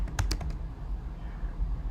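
Brief burst of typing on a computer keyboard, a few quick close key clicks at the start followed by quiet room tone, with no talking.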